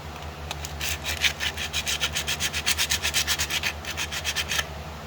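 Scrubbing scaly rust off an old metal saw, a rapid series of rasping back-and-forth strokes over a steady low machine hum, close and fairly loud, with no talking.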